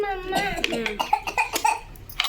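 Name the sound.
child coughing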